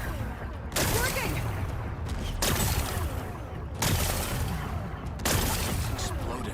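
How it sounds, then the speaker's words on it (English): Four heavy weapon-fire bursts blast rocks in the video game Horizon Forbidden West, each a loud roaring volley about every one and a half seconds with rumbling tails between. "Gotta blast away some rocks, so I can expose the power cell."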